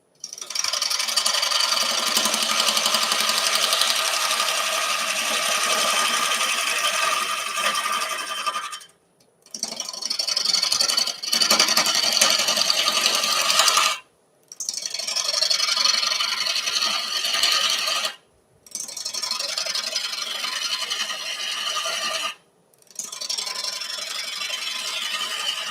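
A wood lathe turns a piece of yew mounted on a faceplate while a tool takes a heavy cut, producing a loud continuous scraping rasp broken by four short pauses.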